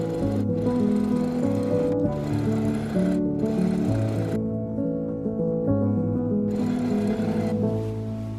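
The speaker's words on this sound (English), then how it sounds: "I'm going to take it around and sew it with a straight stitch" A sewing machine runs a straight stitch around a double rolled hem on a puffed sleeve shirt. The sound is a steady, close mechanical whir with short pauses between bursts, mixed with soft background music.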